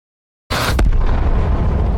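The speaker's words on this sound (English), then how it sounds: "The bullets entered from beneath the German tank and ricocheted upward, then penetrated and exploded the core of the weapon." T-34 war movie tank shell explosion: a sudden loud blast after a brief silence, followed by a deep roaring rumble that sustains to the end.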